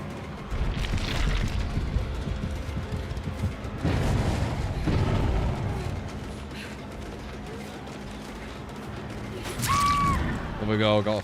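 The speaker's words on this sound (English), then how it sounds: "There we go, got a flashbang again." A flashbang goes off in the video game Dead by Daylight, giving a few muffled booming bursts amid a busy game soundscape, followed by a brief high ringing tone near the end.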